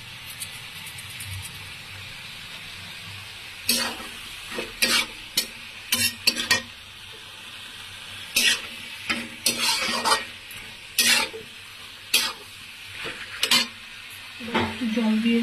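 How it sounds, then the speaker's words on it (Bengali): Food frying in a pan is stirred, with a steady sizzle broken by repeated scraping and clinking strokes of a utensil against the pan, close and fairly loud, starting a few seconds in. "এবার একটু নাড়াচাড়া করে নেব।"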